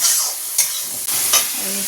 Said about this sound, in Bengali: আর এই যে মশলাটা কষাচ্ছি, ডিমের কারি হবে।